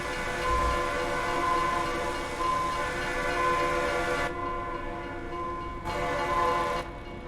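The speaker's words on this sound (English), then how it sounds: "Sounds like there's a freight train coming through." A freight train in the American Truck Simulator video game rolls past with a sustained horn, whose steady tones hold over the rumble of the cars and then break off in short gaps near the end.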